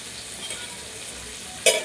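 Fish cooking on a griddle over a low flame gives a soft, steady sizzle, and a brief louder crackling burst rises near the end.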